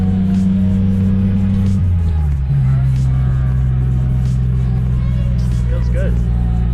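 A rusty supercharged Geo Metro drives along in third gear, its engine giving a steady, loud low drone with a brief dip in pitch partway through as the cabin rumbles on continuously.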